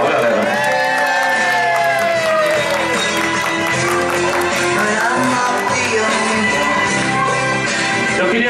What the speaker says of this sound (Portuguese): Uma salva de palmas para o nosso casal, galera.